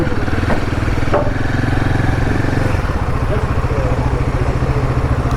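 A Royal Enfield motorcycle's engine idles with a steady, throbbing thump that stays loud and close throughout, with no talk over it.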